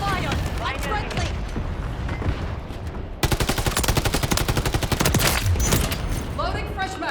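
Dense, continuous automatic gunfire and explosions from the video game Call of Duty Modern Warfare 3, loud and sustained, with rapid machine-gun bursts in the second half and radio-style voices underneath.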